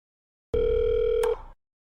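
A telephone rings once, a single loud steady electronic tone lasting about a second, with a second brief overlapping chime near the end and no talking.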